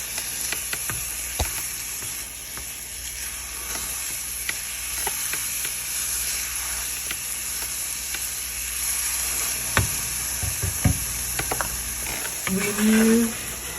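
Soft scrambled egg being gently mixed in a pan off the heat, giving a continuous low sizzle and hiss with occasional light clicks and scrapes from stirring.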